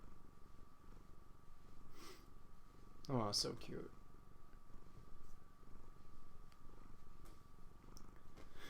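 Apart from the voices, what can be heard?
domestic cat purring while being petted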